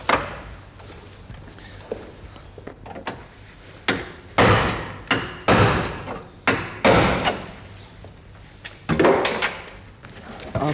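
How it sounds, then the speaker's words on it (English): Repeated metallic hammer strikes on a chisel prising off a car body panel, irregular sharp bangs and thumps close by, some in quick bursts, with scraping between blows. "We may need to prise it off with a hammer and chisel."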